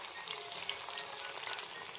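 Jackfruit chips fry in hot oil with a faint, steady, even sizzle that carries on without pause and with no voices.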